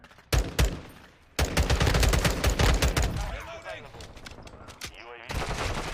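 Bursts of M16 rifle fire in the Modern Warfare II open beta, loud and close, with sharp repeated shots in clusters and gaps between them, followed by quieter in-game rattling and movement.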